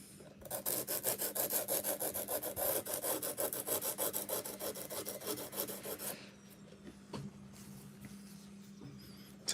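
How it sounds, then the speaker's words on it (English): A blade saws through an emery board in fast, regular rasping strokes, close and loud, before the scraping stops and a quieter background hum remains. "it's trying to slice through this emery board"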